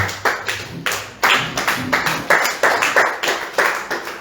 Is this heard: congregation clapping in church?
yes